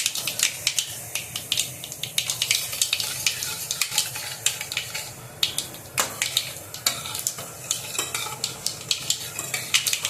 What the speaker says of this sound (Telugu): చూసారా, మెంతులు కొంచెం కలర్ మారుతున్నా కొంచెంగా.